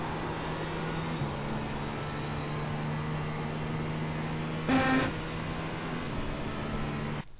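A GTP race car engine in iRacing at Spa-Francorchamps, a steady droning hum held at a constant pitch, with a brief louder burst near the end before dropping away.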